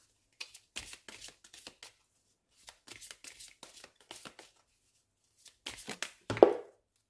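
Oracle cards are shuffled and cut in short, crisp riffling bursts separated by pauses, close and fairly quiet, with a sharper slap of cards near the end; no voices.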